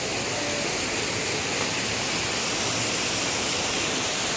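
Aw-Asen Falls in Sigay, Ilocos Sur, Philippines, pours down in a loud, steady, unbroken roar of rushing water heard close up.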